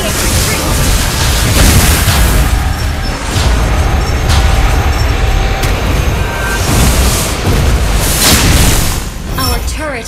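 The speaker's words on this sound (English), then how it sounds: "Our turret has been destroyed!" A turret collapsing in the Mobile Legends video game booms in a loud, dense roar of blasts and rumbling impacts that runs the whole stretch, overlaid with game effects and announcer voice.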